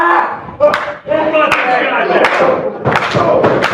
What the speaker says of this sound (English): Crowd here at Alley Fights trying to get behind Logan McKenna